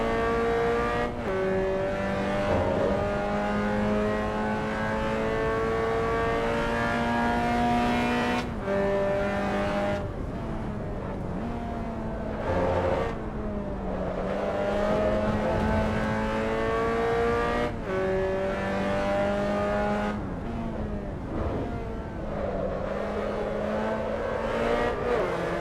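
A GT3 race car in Assetto Corsa EVO revs hard and continuously, its engine note climbing through the gears with sharp drops at each shift, loud and close with no talk over it.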